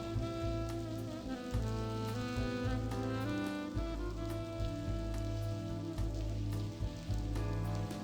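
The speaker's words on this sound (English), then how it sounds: "That sounds like it's raining in here." Steady rain falls indoors in the point-and-click adventure game The Blackwell Convergence, a continuous close patter sitting under game music and ambience, with no voices.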